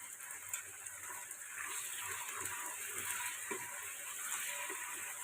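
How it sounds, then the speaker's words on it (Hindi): Chicken frying in a pot gives off a quiet, steady sizzle and hiss, with occasional soft stirring knocks underneath. "मैं इसको 5 मिनट मज़ीद फ्राई करूँगी"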